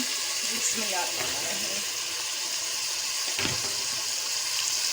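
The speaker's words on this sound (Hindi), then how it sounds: "अब हम इसके अंदर कटी हुई सब्ज़ी ऐड करेंगे।" Chopped ridge gourd tumbles into hot frying masala, a steady close sizzle with a brief clatter of the vegetable landing and being stirred; speech is present.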